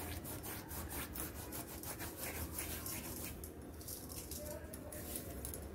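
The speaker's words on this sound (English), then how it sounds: "Then goes this ajwain, that also rub it nicely into your palms like this." Ajwain seeds rubbed between the palms over food for chicken fry, a soft continuous dry rasping and rustling close up, steady throughout with no clear pauses.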